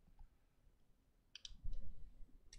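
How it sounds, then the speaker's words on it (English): Computer mouse clicks during work in animation software, a few short crisp taps close to the mic, followed by a low thump, quiet and isolated. "I'm going to click here"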